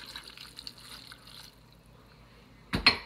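A cup of water is poured into an Instant Pot in a brief splashing gush near the end, after a quiet stretch of faint kitchen handling sounds.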